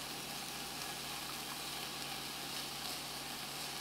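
Vegan food coated in barbecue sauce cooks in an oil-free nonstick pan, making a soft, steady, even sizzle that stays faint and unbroken for the whole stretch, with no voices.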